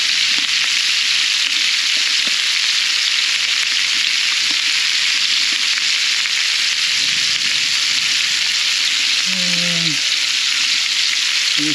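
Meat browning in a pan for chili verde, with salt and pepper added, giving a steady loud sizzle and crackle of frying throughout, a few clinks of a utensil near the end, and no talking.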